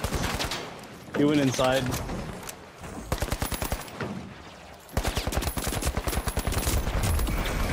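Rapid automatic gunfire bursts in The Finals, close and loud, firing in quick repeated strings across most of the stretch while someone talks over the shooting.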